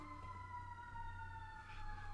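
Passing emergency vehicle siren wailing in sustained tones, moderately distant and steady over a low background rumble, heard alone without talk.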